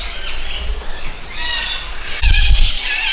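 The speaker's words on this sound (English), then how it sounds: "something will startle these birds" A flock of startled birds at a bird park in Maleny, Australia, squawking and shrieking loudly at close range, with a sudden louder burst of cries and flapping near the end.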